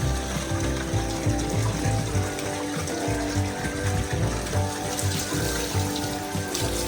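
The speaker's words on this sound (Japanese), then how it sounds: "かけ湯をしたいけど 風が強いから" Hot spring water from an alkaline simple spring is poured over the body at a windy rooftop open-air onsen: continuous close splashing and gurgling with uneven, choppy surges and no talking.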